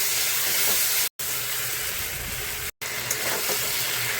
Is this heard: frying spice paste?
yes